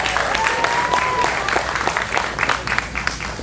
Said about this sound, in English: another round of applause for Miss Patty West.